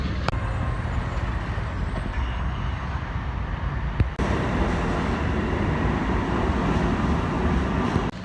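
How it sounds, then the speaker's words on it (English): Steady rumbling roar of a New York City subway train in motion, with rattling and a brief clank midway, no voices. "So we're going on the train now."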